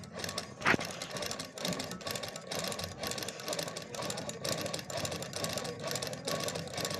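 Sewing machine running during a repair check, a faint, steady mechanical whir with rapid rhythmic needle clatter, heard close and uninterrupted, with one brief sharp click near the start.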